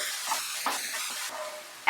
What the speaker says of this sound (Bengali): পেঁয়াজটাকে দিয়ে আরো 1 মিনিট ফ্রাই করব